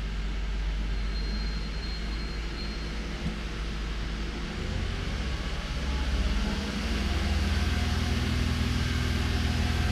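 Cold Toyota Avalon engine misfiring at steady idle and around 1,500 to 2,000 RPM, a constant low rumbling drone that grows louder and heavier midway, with no speech.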